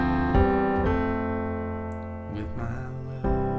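Solo piano playing the transition section of a song, sustained chords ringing with a few fresh strikes and a short higher melodic figure, close and alone.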